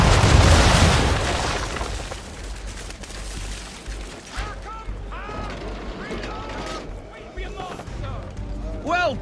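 Ship cannons in Assassin's Creed III fire round shot: a dense roaring volley of booms in the first seconds, then the rumble fades under scattered crackles and a few short tonal calls.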